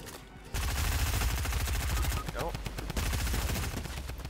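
Rapid automatic gunfire in an online shooter video game, loud and continuous bursts with a brief pause midway, with players talking over it.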